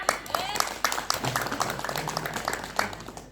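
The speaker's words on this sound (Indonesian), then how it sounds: "Mana dong tepuk tangannya?" An audience at an Islamic boarding school event with santri poetry recitation claps in scattered, uneven bursts, mixed in with a voice talking over it.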